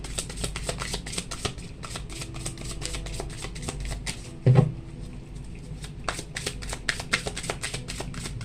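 Tarot cards shuffled in steady rapid riffles and flicks, with a sharper slap as a card is drawn midway, close and crisp with no talking.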